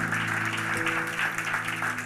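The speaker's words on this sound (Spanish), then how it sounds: "Den ese aplauso al Señor" The Iglesia Refugio church congregation applauds in a continuous, steady roar of clapping, layered over sustained musical tones that keep playing underneath.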